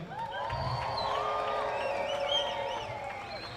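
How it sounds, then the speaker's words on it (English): Crowd cheering for athletes at the Africa Aquatics Zone III swimming championships in Kenya, a sustained wave of voices and whoops swelling in a large venue, with some clapping underneath and no speech. "And that was a cheer to the athletes, regardless of where we're from."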